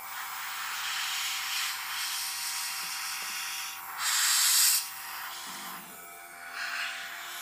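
An airbrush sprays paint for a marble effect, making a steady airy hiss that swells into a louder burst midway before easing off, with no voices.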